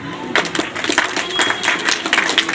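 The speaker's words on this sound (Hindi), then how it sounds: "एक बार इन बच्चों के लिए जोरदार तालियां बजाइए।" A crowd at a coaching campus in Rewari claps loudly for a group of students, breaking into dense, steady applause after a brief pause and keeping it up to the end.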